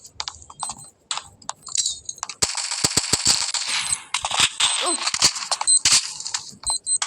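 Rapid bursts of gunfire in a video game rattle out in loud, dense volleys with sharp single shots in between, and faint voices can be heard at the start.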